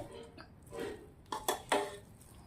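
Butter being stirred into hot Rajasthani vegetable pulao in a metal pot, heard as a few sharp spoon scrapes and clinks against the pan, fairly close and moderate in volume, with no talking.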